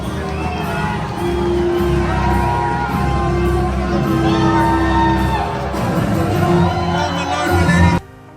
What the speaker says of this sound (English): So our entire section is cheering for him.